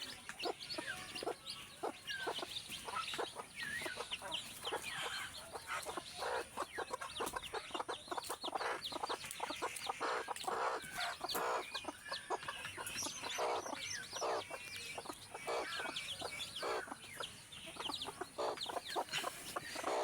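Desi hens and newly hatched chicks on a small poultry farm, with dense rapid peeping and soft clucking going on nonstop, fairly faint and close, without any talk.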